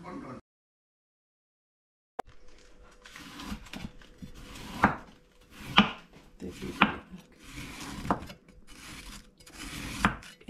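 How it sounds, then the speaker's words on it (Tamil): Cabbage being cut into small pieces for a cabbage pizza: a close, steady run of rasping knife strokes through the leaves, with sharper chops every second or so and no talking. "கேபேஜை நல்லா சின்ன சின்ன பீசஸாக கட் பண்ணிக்கொள்ளுங்க"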